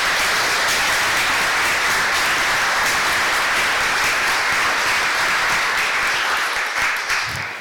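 A crowd applauds steadily for several seconds, dense clapping at an even level that tapers slightly at the end.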